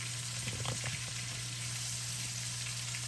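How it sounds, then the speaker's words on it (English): A chuck roast sears in a cast iron pot with a steady, close sizzle. A few soft stirring knocks come early on, over a constant low hum. "I'm going to sit my meat in here until I saute my vegetables"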